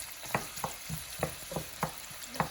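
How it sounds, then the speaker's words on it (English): Chopped yellow onion and two stalks of celery sizzle in a generous amount of melted butter, a steady frying hiss punctuated by regular stirring scrapes roughly every half second. "we have 1 yellow onion and 2 stalks of celery. We're gonna sauté those down"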